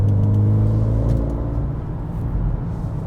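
A 2021 Mercedes GLB35 with 302 hp drops gears through a tight corner, its engine giving a loud close rumble that blips and then eases off into a lower drone.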